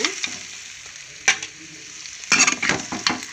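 Pieces of fish frying in oil for a fish curry, with quiet bubbling between sharp bursts of sizzle and spatter as they are stirred or turned, close and without talk.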